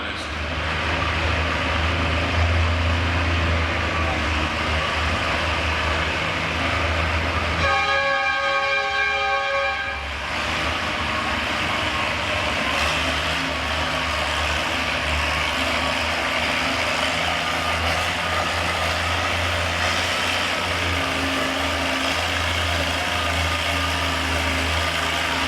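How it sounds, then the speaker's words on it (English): An Oliver tractor roars loudly and steadily throughout a classic tractor pull in Chatham, the engine drone holding for the whole run with a brief pitched whine partway through. "Here we go, tractor pulling in Chatham at its finest."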